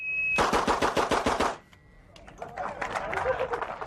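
A handgun fires a rapid string of about eight shots in quick succession at a shooting range, loud and close, followed by a pause and then voices talking.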